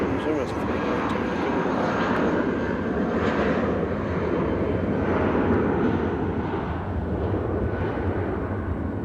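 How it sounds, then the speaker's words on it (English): A United Airbus A319 roars down the runway on takeoff at an international airport, a loud steady low rumble of jet engines with a broad roaring hiss, constant and close throughout. "Nice engine noise on that 319."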